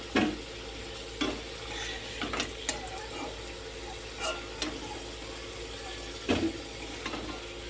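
Potatoes frying in oil in a pan give a steady, low sizzle, punctuated by several sharp clinks and scrapes of a utensil stirring them, close by with no speech.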